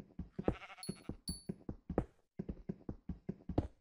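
Repeated sheep bleats in Minecraft, several wavering baas in quick succession with faint hoof-like clip-clop between them, fairly close and clear.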